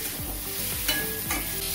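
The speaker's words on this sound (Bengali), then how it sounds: "চিংড়ি মাছটা দিয়ে দেওয়ার পর সব মশলার সাথে ভালো করে একবার একটু ভাজা করে নেব।" Shrimp sizzling hard in hot oil with spices, with a few scraping stirs of a spoon against the pan, close and steady.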